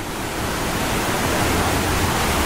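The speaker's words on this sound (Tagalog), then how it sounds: "May Batis effect, may waterfall." Waterfall at a jungle coaster and zipline park in Chiang Mai, Thailand: a steady, dense rush of falling water fills the whole clip at constant loudness, with no voices over it.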